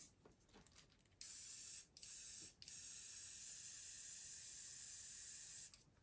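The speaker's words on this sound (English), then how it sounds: "it plays havoc with an airbrush" An airbrush hisses close up spraying paint onto a fishing lure through stencils, two short sprays, then one long continuous spray that stops abruptly, with a quiet gap before the first burst.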